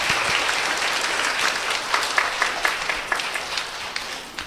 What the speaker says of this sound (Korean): 우리 한번 같이 한번 박수로 한번 환영합시다.